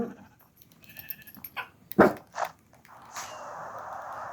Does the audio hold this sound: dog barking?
yes